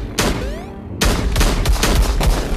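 Gunshots from the VR game Cactus Cowboy Plants at War crack out in quick bursts, one sharp shot and then a rapid volley of several more, loud and close.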